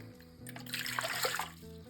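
Water poured into a container for no-knead sourdough, a 450-gram measure, giving a steady close trickle and splash that swells in the middle of the pour and then tapers off.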